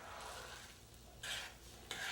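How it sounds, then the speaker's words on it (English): Paella with chopped plum tomatoes stirred in a pan, giving a soft steady sizzle with two brief louder scraping strokes, close but faint. "Give that a stir."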